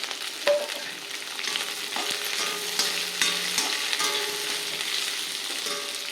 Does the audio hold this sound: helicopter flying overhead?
no